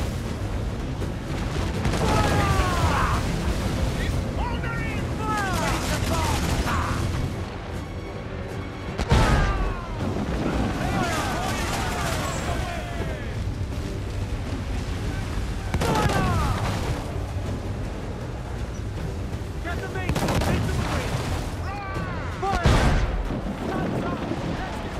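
Pirate ship cannons fire in naval combat in Assassin's Creed IV: Black Flag, heavy booms repeating in irregular volleys over sea and ship noise, with shouting voices throughout.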